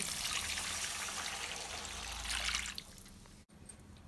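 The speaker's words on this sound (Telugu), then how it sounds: "ఎసురు వాటర్ అయితే పోసుకున్నాం." Steady rush of water pouring into a pan of fried upma ingredients, fairly loud and close, ending abruptly followed by a quiet tail.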